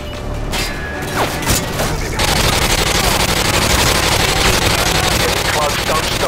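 Repeated AGM missile blasts and gunfire rumble from a Modern Warfare 2 sniper mission, a dense continuous barrage of booms and crackling bursts filling the clip after a brief quieter opening, with radio voices speaking over the combat.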